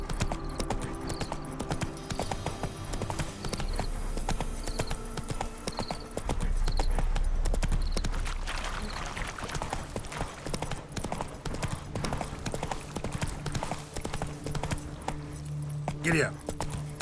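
Roach the horse trotting in The Witcher 3, hooves clip-clopping in a steady, close rhythm throughout, with a low rumbling bed of game ambience and a brief jingle of tack near the end.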